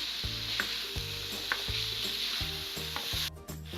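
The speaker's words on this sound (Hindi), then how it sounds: "सेपू बड़ी को हमने हल्का सा 1 से 2 मिनट" Sepu vadi lentil dumplings fry in a pan with a constant close sizzle and a regular series of scraping stir strokes against the pan bottom, no voices present.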